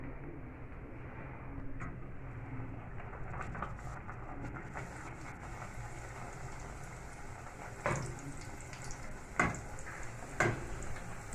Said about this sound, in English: So we are going to start deep frying them.